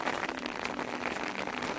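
Heavy rain pouring down on a farm field, a dense, steady patter of drops hitting the ground and surfaces, fairly faint and unbroken.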